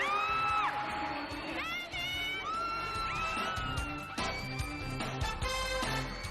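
A stadium crowd in Bangkok cheers for David Beckham's football tricks, with excited high whoops and shrill shouts rising over a dense, continuous roar.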